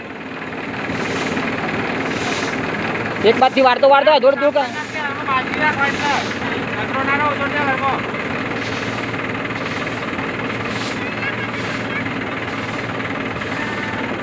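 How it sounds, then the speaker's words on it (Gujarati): A tractor engine runs steadily after starting, a continuous low rumble throughout, with people talking over it near the start. "ટ્રેક્ટર સ્ટાર્ટ કરી દીધું છે"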